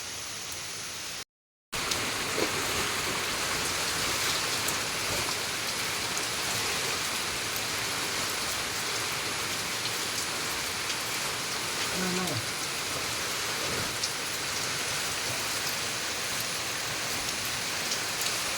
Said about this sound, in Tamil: மறுபடியும் மழை ஸ்டார்ட் ஆகிடுச்சு கைஸ்.